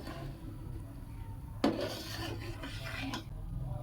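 Soaked Gobindobhog rice is stirred into simmering khichuri in a cooking pot, with soft rubbing scrapes and a sharp utensil knock against the pot, close and quiet, with no voices.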